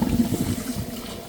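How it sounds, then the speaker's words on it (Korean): Peony blossoms get a second rinse in water for flower tea: a brief, close swirl of sloshing and trickling water that is loudest at the start and fades slightly. "다시 한 번 더 헹궈 주고요."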